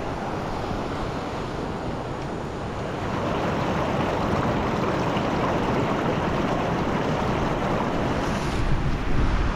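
River water flowing at a riverside rest stop in Maria Aurora, a steady, loud wash of rushing water that fills the whole scene, with no voices.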